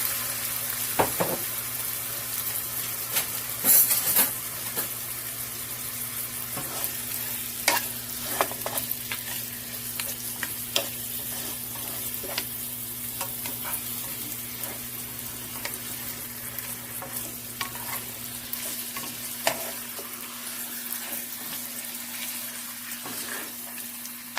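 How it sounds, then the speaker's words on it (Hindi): Meat frying in a small amount of oil while being stirred, for Peshawari namkeen gosht: a continuous low sizzle with frequent spoon scrapes and taps against the pot, plus a steady background hum, no talking. "आपने ज़्यादा ऑयल नहीं डालना है इसके लिए। और इसमें हम मीट ये डालेंगे।"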